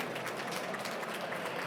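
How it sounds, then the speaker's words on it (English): Audience applause at the VivaTech 2025 technology conference, a steady wash of many hands clapping in a large hall at moderate, even volume throughout. "A great applause to you."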